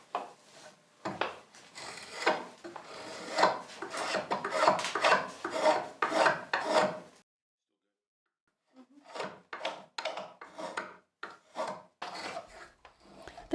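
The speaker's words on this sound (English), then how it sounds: "he begins to pare it down using a spoke shave" A spokeshave pares down a wooden spatula braced on a wooden support, with rhythmic rasping strokes close up, repeated in quick bursts, a brief pause, then more strokes.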